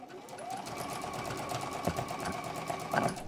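A sewing machine stitches around the seam of a fold-over purse, a steady close mechanical whir with a faint rhythmic knock running throughout, unbroken by speech.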